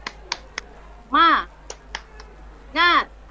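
Sharp hand claps ring out in a quick rhythmic pattern, broken by two short shouted words, then the clapping pattern repeats.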